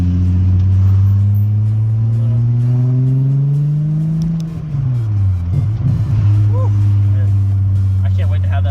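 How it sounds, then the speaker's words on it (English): A car with a VR6 engine revs steadily, a strong droning hum that climbs, dips sharply, then settles back to a steady loud drone, heard up close with brief faint voices near the end. "That sound of my car."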